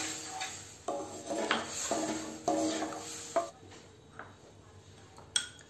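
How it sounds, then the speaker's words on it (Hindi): A spoon scrapes and clinks against a metal pan as milk powder is stirred in, giving a series of uneven metallic knocks and scrapes at close range, with quieter gaps between strokes. "मिल्क पाउडर डाल के हम इसको चलाएंगे। इसको अच्छी तरह से चलाएंगे।"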